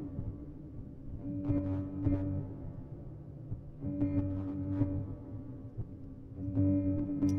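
Slowed-down looped glitch interference effect built for Sonic's nightmare sequence, a droning buzzy tone that swells and fades in repeating cycles with crackly bursts at regular intervals.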